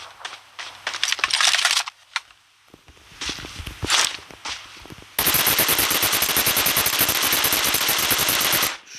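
Automatic gunfire in the mobile battle-royale game PUBG Mobile, with scattered shots and footstep-like clatter early on, then a loud, sustained rapid burst lasting several seconds before cutting off.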